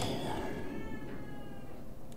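A cat meows inside the horror game The Evil Within 2, a soft, drawn-out mew heard faintly over the game's low, murky ambient drone.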